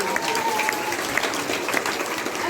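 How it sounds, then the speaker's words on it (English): An audience at a London school assembly applauds the girls with dense, steady clapping that fills the moment, loud and close, with a few voices mixed in. "Give the girls a round of applause."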